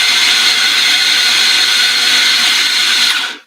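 Coffee grinder grinding coffee beans, a loud, close, steady high whirring buzz that holds evenly for about three seconds and then winds down abruptly to silence, with no talk.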